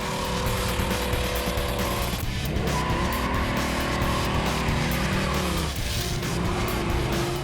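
A classic Dodge Challenger six-pack muscle car accelerating hard, its engine roaring and rising in pitch through a gear change, loud and close, with tire squeal and rough engine texture throughout.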